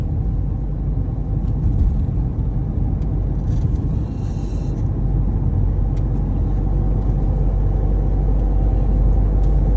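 A car cruising on the Agra Lucknow Expressway in India, heard from inside as a loud, steady low road rumble and engine drone with constant wind noise.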